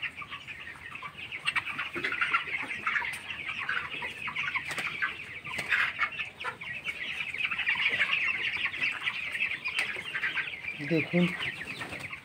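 Broiler chickens about 22 days old cluck and chirp continuously in a poultry farm shed, a dense flock chorus at moderate volume, with someone speaking briefly over it.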